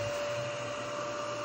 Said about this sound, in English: but it's a little vacuum cleaner.